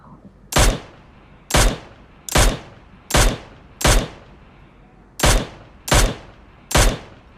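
Eight loud, sharp rifle shots from PUBG Mobile ring out one at a time at roughly even intervals of about a second, each with a short decaying tail.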